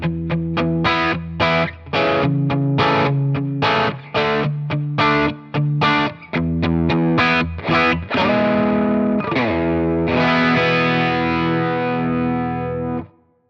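Distorted electric guitar played through a Browne Amplification Ethane dual drive pedal on its green side, loud chugging staccato chords that give way to sustained ringing chords near the end, with no talk.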